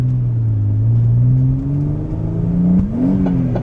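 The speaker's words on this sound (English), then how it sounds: "we snapped a drive shaft" Engine of a 500hp Vauxhall Adam VXR V6 loudly droning at steady revs, with a pitch dip and sharp shift near the end as a drive shaft snaps and drive is lost, leaving a whirring, wavering tone.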